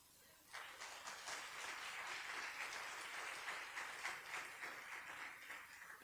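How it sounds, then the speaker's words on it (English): Audience at the Elevate Africa Convening 2025 conference gives a round of applause, with dense clapping that starts suddenly, holds steady for several seconds and thins slightly toward the end. "A little round of applause"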